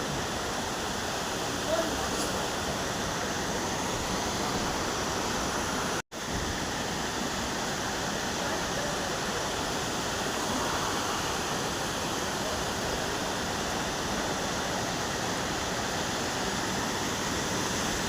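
Steady, dense rush of a mountain waterfall near Manali, a constant broadband roar with no pauses; a brief dropout interrupts it once.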